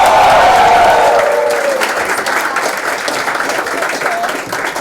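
Audience at an annual cultural fest cheering and applauding loudly, a dense crowd roar with clapping and a few high whoops, strongest at the start and easing slightly while staying steady throughout.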